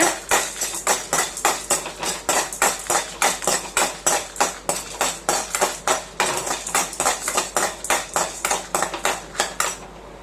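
A spoon scrapes and taps steadily against a pan while chana dal, coriander seeds, cumin and dried chillies are dry-roasted, sounding as a fast, even run of sharp metallic clinks, close up, with no talking.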